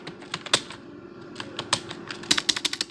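Close, crisp typing on a computer keyboard while naming a new project folder, with scattered key clicks that speed into a quick run of strokes at the end, alone without talk.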